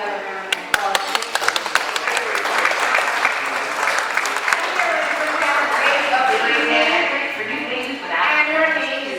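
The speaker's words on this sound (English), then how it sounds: "Give him another round of applause." A fundraiser audience at Center Inc. applauds, with dense sustained clapping from the crowd for around nine seconds and a voice speaking over the applause.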